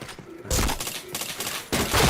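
Bursts of rapid gunfire in a video game shooter, a loud fusillade starting abruptly then resuming after a short pause.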